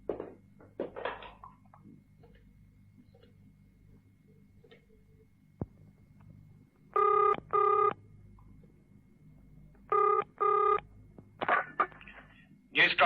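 Telephone in an old-time radio detective drama being dialed, with two pairs of clean electronic ring-like bursts and clicks from handling, near and alone in a quiet room, with brief noises before and after.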